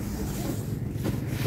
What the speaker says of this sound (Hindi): आज फिर से इसका एग्जॉस्ट निकाल रखा है, साउंड आपको मिल रही होगी